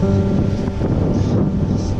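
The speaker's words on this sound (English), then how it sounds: "it's super windy at the same time" Strong wind roaring and buffeting the microphone during a super steep hike on Nusa Penida, Bali, as a dense, continuous, loud rumble with no clear voices.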